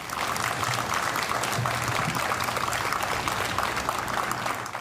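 Colleagues and friends clap together at a memorial for a co-worker, a steady, dense round of applause that holds at even loudness throughout.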